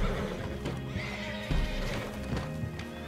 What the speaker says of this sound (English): Look at all the horses.